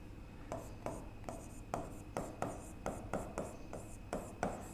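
Pen or chalk writing by hand during a lesson, a steady rhythm of repeated close scratchy strokes, about ten in a row, over a low background hum, no voices.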